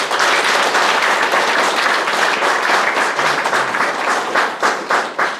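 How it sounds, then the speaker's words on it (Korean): Sustained applause from a large audience at a Nonsan city mayor's welcome event in Yeonsan-myeon, loud and dense throughout with many hands clapping together and a slight thinning toward the end. "축하를 큰 박수로 한번 부탁을 드리겠습니다."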